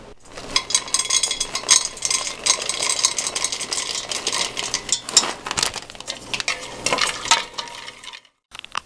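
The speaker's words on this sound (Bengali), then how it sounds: "এবার প্যানে আমি সাদা তেল দিয়ে আগে কাঁচা বাদামগুলো ভেজে নেব।" Raw peanuts frying in white oil in a pan, a busy continuous sizzle and crackle with scattered stirring clinks, close and fairly loud, fading out near the end with no talk.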